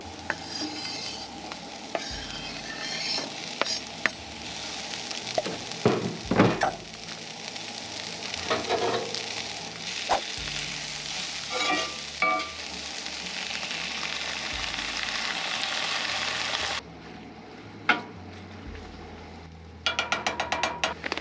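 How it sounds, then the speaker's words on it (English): Pasta sauce bubbling in a pot on a camp stove beside a Nissan Frontier camper, a soft steady simmer with intermittent clinks and stirring knocks, then a quieter stretch near the end. "we're gonna let the sauce simmer"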